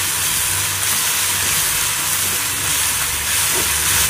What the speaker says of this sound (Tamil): இப்போ இஞ்சி பூண்டு பேஸ்ட் ஆட் பண்ணிக்கலாம். ஆட் பண்ணிவிட்டு நல்ல பச்சை வாசனை போகிற வரைக்கும் ஃப்ரை பண்ணுங்கள்